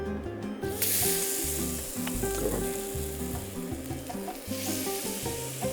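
Fish for tacos fries in hot oil with a loud, continuous sizzle and crackle, close up and steady, with pulsing low background music underneath.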